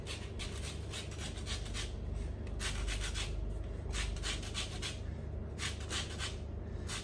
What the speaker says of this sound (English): so I'm going to just run that over the microplane